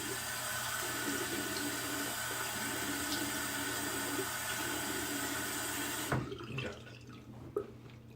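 Running water from a tap splashes steadily while whiskers are wetted before a shave, then stops with a few faint drips and handling sounds.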